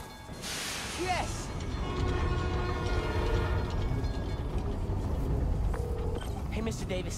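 A subway train runs in the video game Spider-Man Miles Morales, giving a steady loud rumble and rail clatter with a horn-like tone, continuous throughout with game sound effects layered on top.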